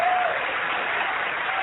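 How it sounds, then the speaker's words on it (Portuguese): Church congregation gives a sustained round of applause, even and continuous throughout, with a faint tone briefly audible near the start and no distinct voices over it. "E enquanto você aplaude,"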